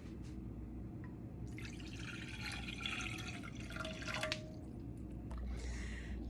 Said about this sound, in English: Then you pour it in your pot.